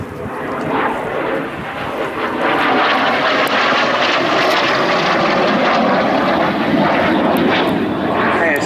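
An Aero L-39C Albatros jet trainer roars by loudly at an air show, its engine whine swelling and holding steady as it passes overhead, a broad sustained rushing sound throughout.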